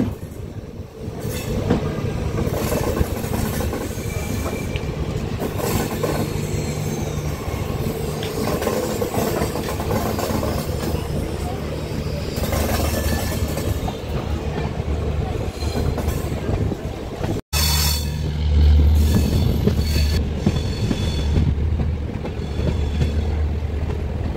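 A train bound for Madurai Junction rumbles steadily on the rails, with loud continuous rolling noise, clattering wheels and a brief break before the heavy rumble resumes.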